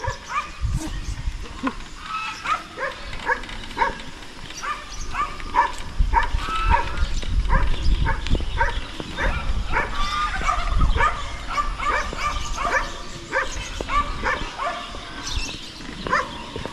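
Pet dogs on a rural property bark, yip and whimper almost without pause, several animals near and far overlapping, with faint voices underneath.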